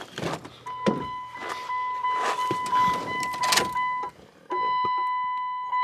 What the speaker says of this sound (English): Here's a fuel pump coming on.